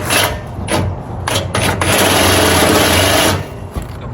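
A power cutting tool slices through the baffle inside a Harley-Davidson exhaust, starting in short whining bursts and then settling into a sustained, loud buzzing cut for over a second before stopping.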